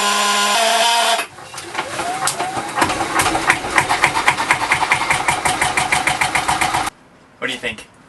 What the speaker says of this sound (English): Let's try and start the engine, having just serviced the whole thing.